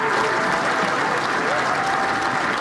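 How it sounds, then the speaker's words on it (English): Crowd cheering and clapping at a groundbreaking for the University of South Florida's new football stadium on the Tampa campus, a dense, steady wash of applause with voices mixed in throughout. "The cheers and clapping are just a taste of what it will sound like once it opens."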